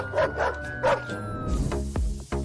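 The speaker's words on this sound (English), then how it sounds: "the one on the left will end up face to face with these pretty unfriendly dogs" Unfriendly dogs barking and yipping in several sharp, close bursts, some whimpering tones between, followed by rapid thumping and scuffling noise.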